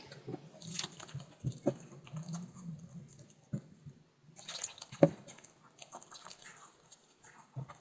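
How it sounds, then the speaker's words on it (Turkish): Soft, sticky yeasted börek dough worked with a spatula, giving wet squishing, slapping and tacky pulling sounds in an uneven rhythm, close and fairly quiet, with no talking. "dışına doğru sürekli karıştırarak hamurumu yoğurmaya başlıyorum"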